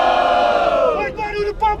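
A loud crowd at a Brazilian freestyle rap battle roars and shouts together, one sustained yell sliding downward in pitch before scattered cheers break through.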